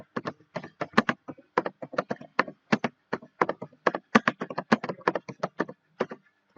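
A computer keyboard is typed on in MS Word with distinct, crisp key taps in irregular clusters and short pauses, heard up close in an otherwise quiet room.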